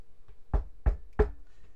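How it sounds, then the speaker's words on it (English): Three distinct knocks on a door in a video game, evenly spaced and fairly soft, alone against a quiet background. "you hear a knock at the door."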